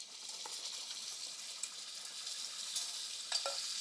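Cumin seeds roasting in a little hot oil, a faint, thin, airy sizzle with a few tiny crackling pops, quiet and steady.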